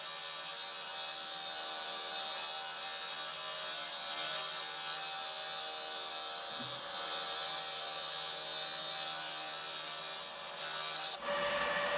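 A laser cleaner works over old welds on a 56-year-old aluminum trawler hull, giving a steady, loud hissing rasp that holds almost unbroken and cuts off abruptly near the end.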